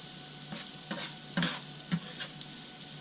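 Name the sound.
onions and peppers sautéing in a pan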